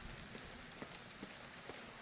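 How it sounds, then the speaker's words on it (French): Steady rain falling across a city street in the game Ghostwire Tokyo, a soft, even hiss with occasional faint drips, quiet and distant, with no voices. "Ah, cette pluie, toujours il pleut ici."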